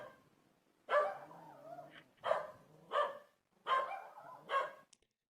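Dogs bark in about five short, rough bursts spaced a second or so apart, with brief quiet gaps between them. The barks sound moderately near, and nobody speaks.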